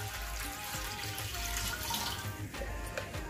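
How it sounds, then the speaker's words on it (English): Water pours steadily from a tap into a cooking pot holding boiled onions, a continuous close splashing gush throughout. "Last but not the least, we're gonna add the water."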